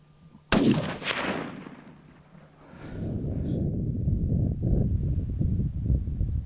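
A single loud rifle shot cracks out while hunting a buck, followed by a long rolling echo and wind noise across open country.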